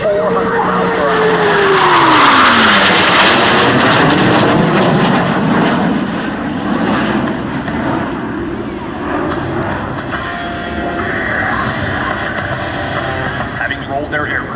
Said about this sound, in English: Blue Angels 5 and 6 are approaching the flight line in a line abreast formation at 400 miles per hour.